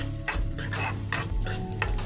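A spoon stirs onions with turmeric and chili powder in a frying pan, making rhythmic scraping strokes about every half second over a steady sizzle, close and fairly loud.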